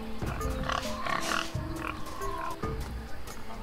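Grunting, snorting oinks of a pig in the game Tales of Monkey Island repeat in short bursts, loud and close, with a synthetic, game-like quality.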